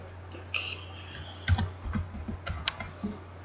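Rapid clicking of keys on a computer keyboard, close up, in short irregular bursts of typing.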